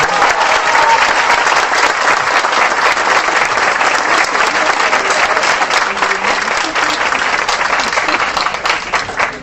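A university assembly audience at UAM Xochimilco breaks into loud, continuous applause welcoming a professor, dense clapping that holds steady for several seconds before starting to fade.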